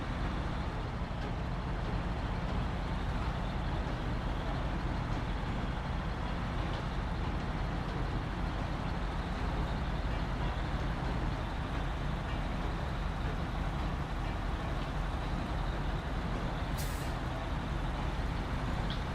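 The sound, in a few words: truck engine in a video game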